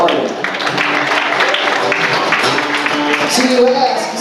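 Concert audience applauding, a steady wash of clapping and crowd noise lasting several seconds, loud and close, with voices mixed in throughout.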